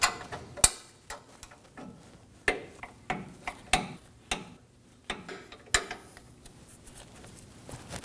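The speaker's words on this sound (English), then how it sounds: "I'm just gonna make sure it's snug with the 2 wrenches" A strut top nut on a 2017-2024 Nissan Armada front suspension snugged with two wrenches: scattered sharp metallic ticks and clinks at an irregular pace, close and fairly quiet.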